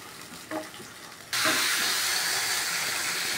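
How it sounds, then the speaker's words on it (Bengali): Tomato paste hits a hot frying pan with a sudden loud sizzle after a quiet moment, then keeps up a steady, close, continuous hissing fry. "এটাকে আমি ভালো করে ভাজবো, টমটমটাকে ভালো করে না ভাজলে না গন্ধ ছাড়বে।"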